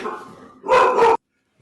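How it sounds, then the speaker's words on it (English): A dog barks twice in quick succession, loud and close, after a short stretch of faint whining, then silence follows. "we just knew the dogs were going to start barking"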